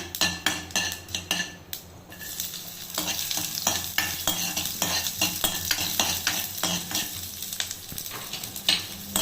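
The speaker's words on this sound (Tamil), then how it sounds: "வெந்தயத்தை போட்டுட்டு லைட்டாக லேசாக வறுத்துக்கிட்டு" Steady sizzling of fenugreek seeds and shallots frying in hot oil for rasam, with frequent scraping and clinking of a spoon stirring against a pan, close and continuous.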